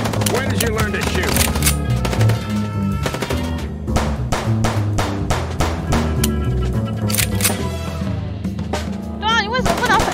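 Video game gunfire: rapid bursts of shots and sharp impacts crowd a busy, loud mix of game music and effects, with voices talking throughout.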